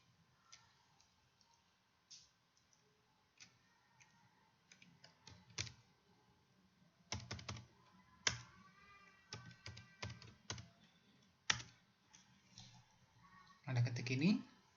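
A computer keyboard being typed on while entering data into an Excel spreadsheet: irregular close clicks and short bursts of keystrokes, growing busier toward the end, with a quiet voice talking underneath.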